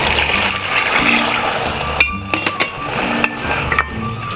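Water pours from a cup into a pot of rice for white Mexican rice, a splashing fill close by with several clinks of the cup against the pot.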